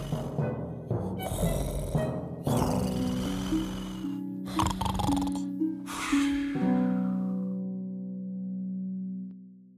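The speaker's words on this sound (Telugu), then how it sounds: "అప్పుడు ఆ యువకుడికి తెలిసింది తను గురక శబ్దం చెయ్యాలని." A voice performs a snoring sound effect in a children's Telugu story of Alibaba and the forty thieves, with drawn-out rasping snores and snorts over a sustained musical drone that fades away at the end.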